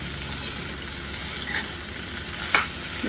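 Bitter gourd curry is stirred in a pan, giving a steady close sizzle with a couple of sharper scraping strokes from the spoon.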